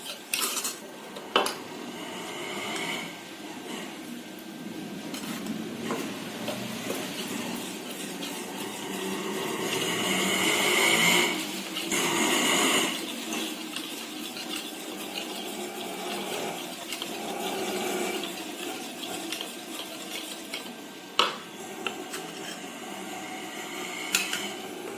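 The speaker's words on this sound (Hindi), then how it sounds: "अच्छी तरह से इसको मिक्स कर लेंगे." Spoon scraping and clinking against a bowl while flour is mixed into homemade chocolate cake batter, a steady close stirring clatter with a few sharper knocks and no talking.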